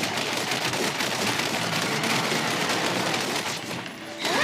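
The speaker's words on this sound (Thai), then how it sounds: "เอาไปปืนยิงรัวๆ" Rapid gunfire rattles in Honkai Impact 3rd, a dense, continuous burst of fast shots that carries on for several seconds before easing off briefly at the end.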